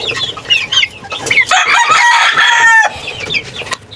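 Backyard chicks and a hen cluck loudly and up close, with high chick peeps around a stretch of louder, drawn-out squawking calls.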